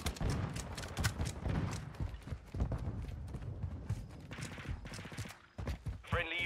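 Rapid gunfire bursts and impacts from a Call of Duty match, dense and continuous through most of the stretch, with a brief voice-like tone near the end.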